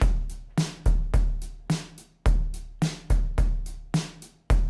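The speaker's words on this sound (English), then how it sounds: "So now I've made a drum beat." A programmed drum beat with punchy kicks and snappy hits in a steady, looping rhythm, clear and up front with no voices.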